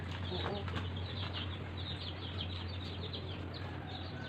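Faint chicken clucking mixed into a busy outdoor background with a constant low hum and other birds chirping.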